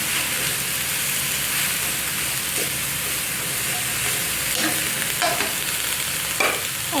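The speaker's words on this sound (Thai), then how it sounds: "ผัดให้เข้ากันค่ะทุกคน" Minced pork and vegetables being stir-fried in a hot pan, a steady loud sizzle running throughout with scraping spatula strokes and clanks breaking through near the end.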